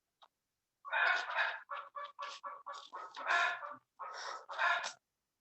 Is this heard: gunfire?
no